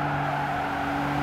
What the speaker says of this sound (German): hört man, dass wir praktisch die ganze Zeit am Rutschen sind